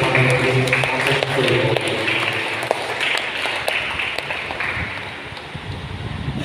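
A church congregation claps hands together at a Sunday Advent service, a steady, busy patter of many hands that fills the room and fades slightly toward the end, with some voices beneath.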